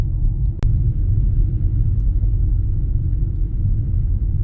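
A car drives along snowy backroads on the day of the first snowfall of 2024, its low engine and road rumble steady and close throughout, with one brief sharp click early on and no talking.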